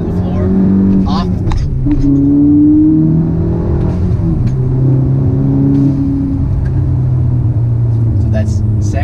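A manual transmission car accelerates hard and shifts up out of second gear, a loud, steady engine drone rising in pitch with a brief dip at the shift, heard from inside the car under an instructor's voice.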